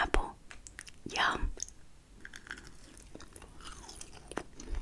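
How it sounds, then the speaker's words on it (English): Close-up crunching bites and chewing of a crisp apple, with soft whispering in between, quiet and intimate. "So for today, we're eating an apple."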